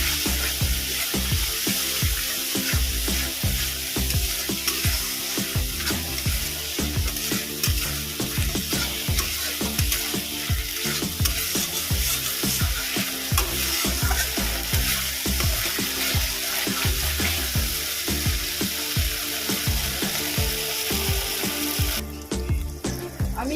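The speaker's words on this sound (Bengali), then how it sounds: "আমি এখানে মিক্সির বাড়িটা ধুয়ে জল দিয়ে মশলাটাকে ভালো করে কষিয়ে নেব" Spice paste for a cauliflower and potato curry sizzles loudly in a pan after water from rinsing the grinder jar is added, with a steady hiss and repeated stirring scrapes throughout and no talking.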